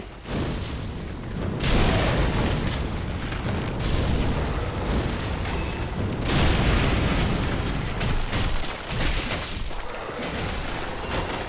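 Fire attack blasts in Dark Souls III during a fight between a Mimic and a Fire Demon, heard as a loud, continuous roar of booming, explosive bursts with heavy rumble, swelling in waves across the whole stretch.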